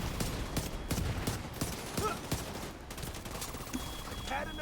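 Rapid gunfire in the video game Division 2, the player shooting at a turret, with dense repeated shots and bursts of action sound continuing throughout at steady loudness.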